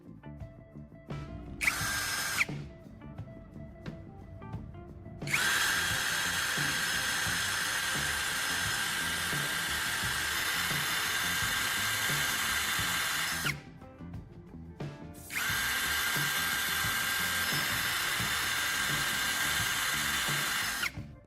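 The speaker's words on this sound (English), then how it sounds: "My next step is to drill this charging port hole a little wider." A power drill bores out and widens the charging port hole in a plastic charger shell, in short bursts at first, then two long, steady, whining runs split by a brief pause; close and fairly loud, no talk.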